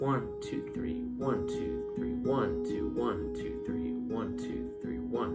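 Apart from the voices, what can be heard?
No everyday noises stand out.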